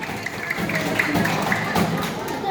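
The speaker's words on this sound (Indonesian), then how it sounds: "Makasih, tepuk tangan." Children at a Sunday school clap together, a loose patter of small hands mixed with crowd noise and a few voices in the room, fairly close and moderately loud.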